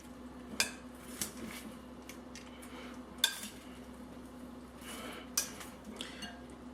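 A Greek salad with tomatoes and olives is tossed in a bowl, giving a few sharp utensil clinks and knocks against the dish over a low steady hum, close up and with no voices.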